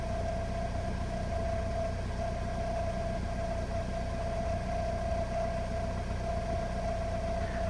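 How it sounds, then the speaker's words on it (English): A failing car fuel pump inside the fuel tank gives a steady, continuous high whine that holds at an even level throughout, over a low constant hum. "another easy indication is if you hear a whining noise coming from your fuel tank"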